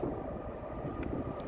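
A Norfolk Southern freight train passes close by westbound, its steady, dense rumble and rolling rail noise filling the whole moment without a break.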